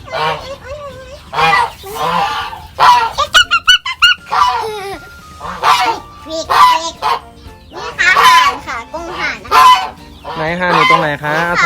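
Geese honk loudly and repeatedly in a farm pen shared with Muscovy ducks, with overlapping calls from several birds close by while someone talks intermittently.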